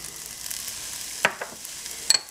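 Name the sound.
sautéing onions, mushrooms, tomatoes and green peppers in a pan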